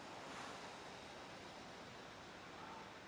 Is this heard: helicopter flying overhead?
no